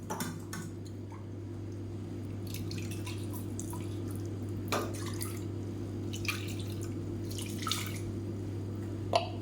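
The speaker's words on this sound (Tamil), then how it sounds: "இதில் கொஞ்சமாக தண்ணி விட்டு அலசிட்டு அந்த தண்ணியும் சேர்த்துக்கலாம்" Water drips and splashes in short bursts against a steady low hum, with a few light clinks of dishes in between.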